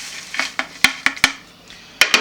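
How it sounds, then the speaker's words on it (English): Dried zobo (hibiscus) leaves tipped into a metal sieve, giving a series of sharp clinks and rattles, several close knocks spaced irregularly with a brief pause in the middle. "So we put our Zobo in the sieve."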